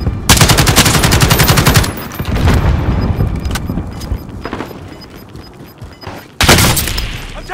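Rapid automatic gunfire in a Call of Duty: Modern Warfare Warzone match, loud sustained bursts at the start and again near the end, with a quieter stretch of scattered shots and game noise in between.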